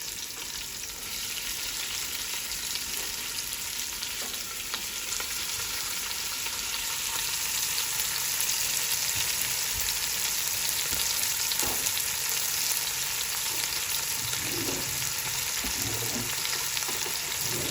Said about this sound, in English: You can literally mix the garlic and onions together until they're about a golden brown.